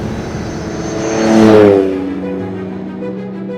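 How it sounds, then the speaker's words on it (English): A 1954 Aston Martin DB2/4 Mark I with a 3-litre straight-six drives past, its engine note swelling as it nears and revs, then fading into a steady hum as it pulls away. "1954 Aston Martin DB2 4 Mark I. Powered by a 3-litre straight-six engine conceived by no less than W.O. Bentley"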